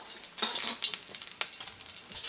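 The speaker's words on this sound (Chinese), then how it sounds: "煎3个荷包蛋呢，做今天这个菜的配菜啊" Three fried eggs sizzle in a pan as a side for a spicy mutton-roll hot pot, giving a close, crackling hiss with brief bursts of popping spatter and no voices.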